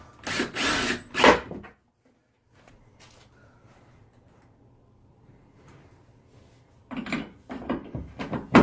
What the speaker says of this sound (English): And then just drill it right in.